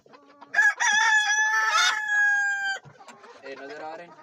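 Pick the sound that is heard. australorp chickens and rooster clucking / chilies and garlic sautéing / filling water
australorp chickens and rooster clucking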